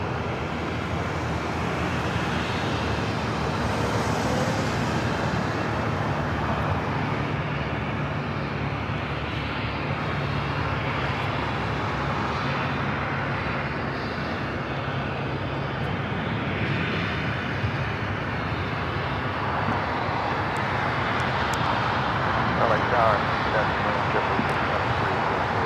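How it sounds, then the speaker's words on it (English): An ANA Boeing Dreamliner takes off from LAX toward Tokyo Narita, its engines giving a sustained broad roar that rises and falls slightly while people talk over it. "ANA, the Dreamliner heading back to Tokyo Narita, now taking off on the north side"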